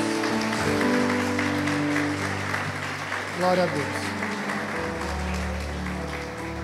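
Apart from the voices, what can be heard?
church congregation applauding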